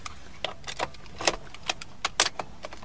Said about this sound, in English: Apply the clutch and turn the key to power on the vehicle